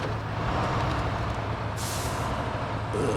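A heavy truck rumbles steadily through its engine in the Snowrunner video game, a constant low drone with a brief hiss of air partway through.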